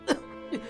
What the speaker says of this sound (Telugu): ఉన్నట్టుండి దగ్గు తుమ్ములు వస్తున్నాయి.